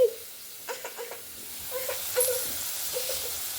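Sweet potato and beetroot cutlets fry in hot oil, giving a faint, soft sizzle with a few brief crackles and pops spread across a quiet stretch.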